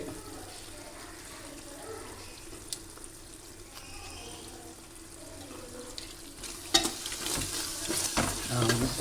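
Tomato paste added and stirred into chicken frying for Arabian chicken mandi, a low steady sizzle with soft stirring that grows louder and busier with clatter toward the end.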